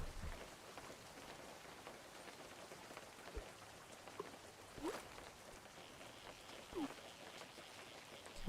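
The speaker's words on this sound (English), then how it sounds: "Wow, this rain covers a big area." Steady, quiet rainfall in the fishing video game Webfishing forms a soft hiss, joined by a few faint chirps and splashes.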